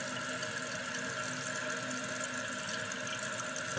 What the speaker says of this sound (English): So once it refills again, it'll stop.